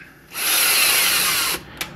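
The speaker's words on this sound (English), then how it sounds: "I just pop it into my cordless drill, make sure it's going the right way, run it in," A cordless drill spins a 1/4-20 drill-tap bit into a 3D-printed part in a single loud, close whine of about a second and a quarter, then stops with a faint click after it.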